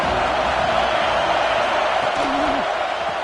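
A stadium crowd in the college football video game NCAA 26 gives off a dense, steady roar that holds at a constant level throughout. A voice rises briefly over it.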